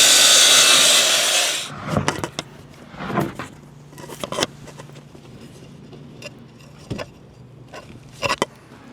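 A saw cuts through a wooden board for a shed ramp in a loud, close burst lasting under two seconds, followed by scattered knocks and clunks of lumber being handled.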